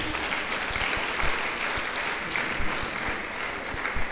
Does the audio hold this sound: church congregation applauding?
yes